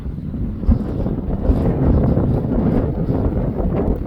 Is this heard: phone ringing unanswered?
no